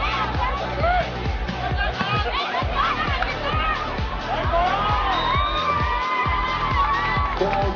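Crowd cheering and shouting for the Goa team during a final sports match: dense, steady crowd roar with whoops and whistles, backed by a steady rhythmic thumping that sounds like drumming, continuous throughout.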